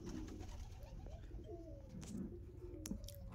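Andhra pigeons coo softly in a loft, low rolling calls repeating through the stretch alongside a few faint chirps and light knocks, quiet and fairly close.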